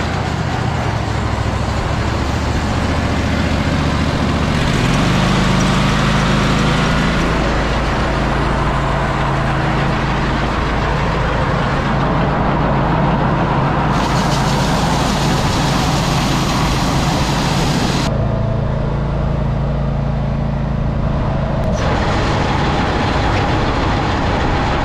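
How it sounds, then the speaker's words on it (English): A cold truck engine revving steadily while a grain auger runs, making a loud, continuous mechanical drone with shifts in tone and intensity throughout and no voices. "Turn the auger on first, then we're gonna rev it up and open the bottom of the bin up."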